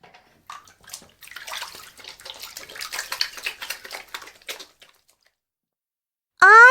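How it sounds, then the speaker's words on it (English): Hands being washed under a running tap, with a close, steady splashing and trickling of water that swells and fades over several seconds and then stops, followed by a brief unrelated tone. "I wash my hands."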